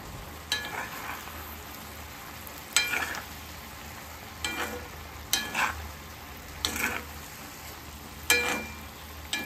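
Sukto, a Bengali vegetable dish with eggplant and fried lentil dumplings, is stirred in a pan, giving a steady low sizzle broken by periodic scraping strokes of the spoon, close and moderately loud.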